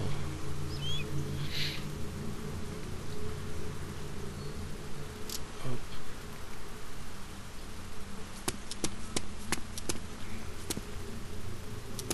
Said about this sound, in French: Je commence à entendre des mouches